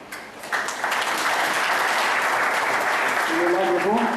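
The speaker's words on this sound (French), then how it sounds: "Pour qui je demande l'assistance d'applaudir." An audience at a university awards ceremony breaks into sustained, dense applause that stays loud and steady throughout, with a faint voice and some tonal sound underneath.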